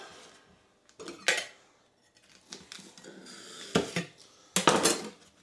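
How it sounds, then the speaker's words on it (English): A knife splits a leek down the middle on a board, giving a few sharp knocks and crisp slicing scrapes with pauses between, close and fairly quiet, with no speech. "with my leek, I think what I'm going to have to do cut it down the middle"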